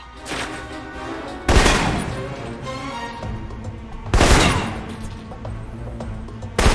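Assault rifle fire in the video game Alpha Protocol: two loud, sharp bursts of gunfire stand out, with a quieter stretch of shots and background noise between them.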